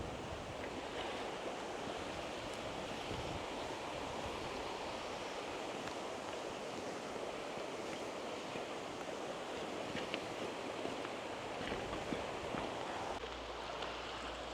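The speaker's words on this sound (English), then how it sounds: "this wind has been problematic" Wind gusts at the water's edge near a fishing spot, giving a constant, loud rushing roar mixed with surf-like wash and microphone buffeting, with no voices.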